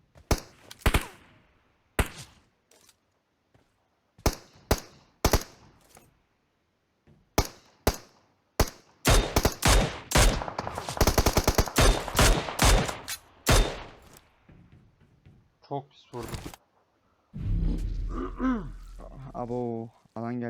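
Rapid gunfire in PUBG Mobile: clustered sharp shots and short bursts cracking out in irregular volleys, some near and loud, with gaps of quiet between them and a rushing noise near the end.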